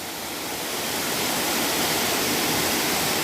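Water pours steadily over a small forest waterfall at Sathit Waterfall in Kanchanaburi, a loud, unbroken broadband rush that holds close and constant with no voices.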